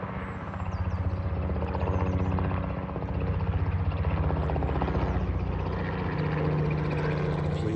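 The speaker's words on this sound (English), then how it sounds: "Police helicopter." A police helicopter passes overhead at a hilltop radio activation site, a continuous low rotor drone with a steady pulsing hum holding fairly level for the whole stretch, no talk.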